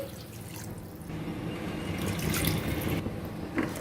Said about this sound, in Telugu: ఇప్పుడు ఇందులో నీళ్ళని యాడ్ చేసుకోవాలండి